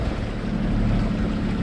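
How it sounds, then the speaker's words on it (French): Steady wind and sea wash around a small sailing boat crossing from the Canary Islands toward Cape Verde in about 14 knots of wind, with a continuous close roar and low rumble from start to finish and no voices. "Le vent, là le vent est un petit peu tombé, mais il y a quand même 14 nœuds."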